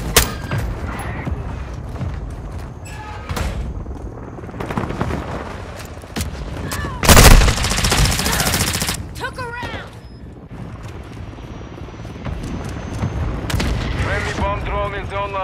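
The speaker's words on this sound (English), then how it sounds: "Our mortar strike is inbound." A mortar strike and gunfire in the video game Call of Duty Modern Warfare II: bursts of rapid shots and a loud, heavy blast midway roll through continuous battle noise, with radio-style voices talking over the action.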